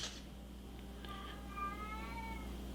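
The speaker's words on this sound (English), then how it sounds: "Unhappy kitty out there." A distressed cat meows outdoors, off at some distance, in a drawn-out, rising-and-falling cry over a steady low hum.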